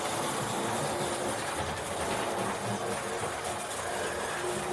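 A Hornby model Castle Class locomotive with a double chimney, in BR late crest livery, runs steadily on a model railway track, giving a continuous broadband whirring rumble with no talk over it.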